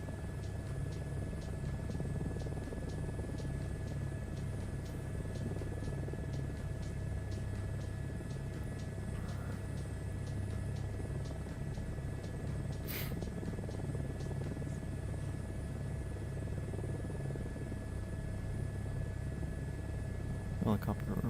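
Helicopter in a flight simulator game, with a steady low rotor and engine drone throughout, constant and fairly close, with a faint high whine above it.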